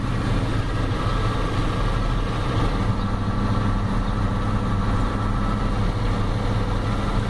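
A 1993 Ford F-250 with a 7.3L IDI diesel engine runs at half throttle, missing and shaking, producing a steady, loud, rough rumble throughout.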